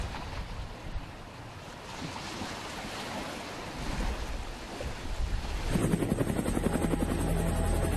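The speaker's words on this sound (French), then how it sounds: "L'hélicoptère du SAMU est proche de l'hôpital Sainte-Mus." A SAMU medical helicopter's rotor thrum, steady and broadband, growing louder and closer toward the end with a rhythmic chopping pulse as it nears a hospital.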